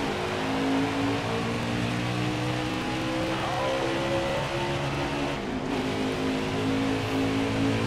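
Race car engines roar in NASCAR Heat 4 as the Xfinity field starts at Atlanta, a dense, steady drone of many engines revving together, loud and continuous throughout.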